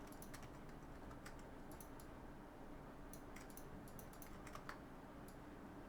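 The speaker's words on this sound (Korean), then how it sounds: "타이핑을 할까요?" Keys tapped on a computer keyboard in an office setting, with faint, irregular clicks scattered over a steady low background hum and no voices.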